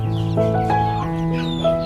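Chickens cluck and chirp close by on a free-range village farm, a steady run of calls with no talk over them.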